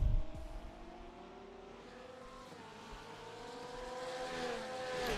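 A Team Rahal Porsche race car in a racing video game roars through turn 1 of an endurance race, its engine note climbing steadily as it accelerates, loud and close with no talking.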